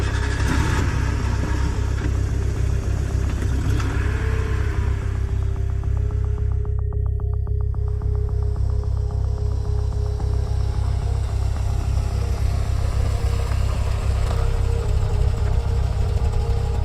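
A car engine runs with a steady, loud, low drone throughout, holding an even level as the car pulls away, with no voices.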